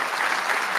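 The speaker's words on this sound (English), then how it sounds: "giving our speaker another round of applause for a fantastic talk" Audience applause after an evening lecture, a steady wash of clapping from a seated crowd filling the whole brief moment without pause.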